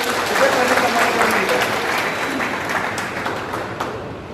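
Crowd applauding at a Rajput community gathering, loud dense clapping that starts strong and slowly fades, with faint voices mixed in.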